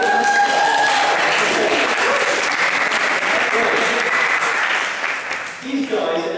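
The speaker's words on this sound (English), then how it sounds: "should we give an applause?" An audience applauds volunteers at a stock market talk, a dense burst of clapping lasting several seconds that fades near the end as voices come back in.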